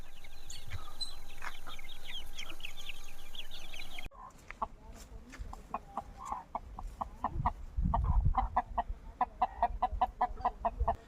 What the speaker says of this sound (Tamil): இப்போ காலை நேரமாக இருக்கிறதுனால நம்ம அது கோழி வந்து வெளியில் மேய்கிறத பார்க்க முடியுது.